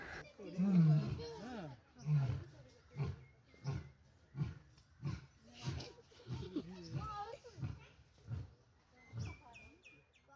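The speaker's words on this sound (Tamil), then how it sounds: "நாங்கள் கரெக்டாக பேசிகிட்டு இருக்கும்போது கர்ஜனையும் பண்ணுச்சு." An old lion at a zoo gives a long series of rhythmic, grunting roars, moderately distant but strong, while people talk over it.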